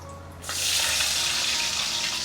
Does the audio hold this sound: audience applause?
no